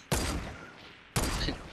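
Two separate gunshots from the video game Fortnite, each a sharp, loud crack about a second apart with a decaying tail, and no talking.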